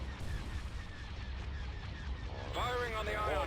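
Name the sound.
ion cannons firing in Star Wars Thrawn's Revenge video game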